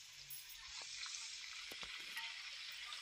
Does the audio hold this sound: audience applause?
no